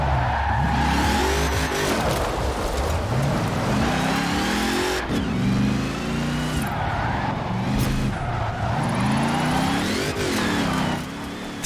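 Tractor engine in Forza Horizon 4 revving hard at full throttle, pitch repeatedly rising and falling in sweeping surges with tire squeal, loud and continuous with no talk.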